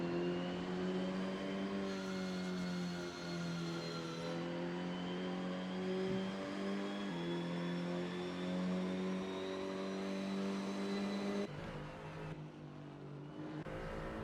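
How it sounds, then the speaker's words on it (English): Onboard engine note of a Mercedes race car, a loud sustained tonal drone that rises and falls steadily through gear changes, close and dominant throughout, with no talk. "So, a little view on board the Mercedes now. Very different engine note to the KTM Crossbow."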